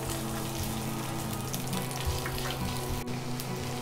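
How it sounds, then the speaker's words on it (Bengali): Chopped onions frying in mustard oil for ilish khichuri, a faint, even crackling sizzle like light rain over a low steady hum, with no speech. "তেলটা হালকা গরম হয়ে আসলে এখানে কেটে রাখা পেঁয়াজগুলো দিয়ে দিব"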